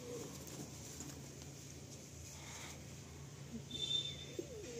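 Madrasi and Malwai pigeons in a full loft coo softly at low volume, with faint, intermittent calls over a quiet background.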